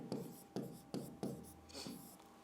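Chalk or marker writing by hand on a board during a Hindi grammar lesson, heard as a close series of short scraping strokes with a few brief pauses between them.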